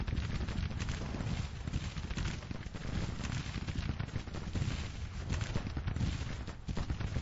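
Artillery firing canister shot in the Civil War strategy game Grand Tactician, a dense, continuous crackle of gunfire and rumbling blasts rolling on without pause, fairly distant and steady.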